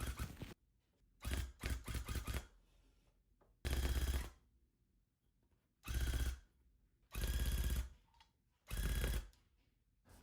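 A rug tufting gun punches yarn through fabric in several loud mechanical bursts of rapid rattling, each lasting about a second, separated by short quiet pauses.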